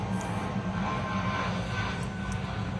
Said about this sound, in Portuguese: O avião terminou de passar.